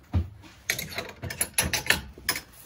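A hand ratchet backs off the cylinder nuts on a Harley Flathead engine, giving a quick run of sharp, close clicks in several short bursts.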